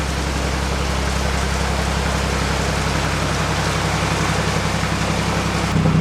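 Heavy rain pours down during a narrowboat's passage through a canal lock, a dense, steady hiss over a low, constant engine throb, close and unbroken throughout.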